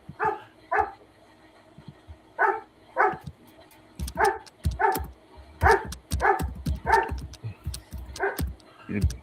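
A dog barks in repeated sharp bursts, first spaced out and then in a rapid run of barks, fairly close and clear against a quiet room.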